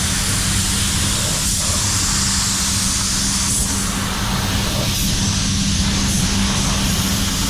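A spray gun paints an Australia Post red van in a spray booth at 2 bar pressure, making a loud, steady airy hiss under a constant roar that runs without a break.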